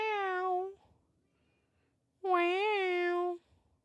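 A cat meows twice, close and clear, with a short pause between the two calls; the second is longer and rises and falls.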